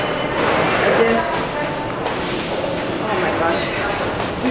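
Paris metro train at Montparnasse station, a loud steady rumble and rolling roar with high squeals and hiss, a voice talking over it.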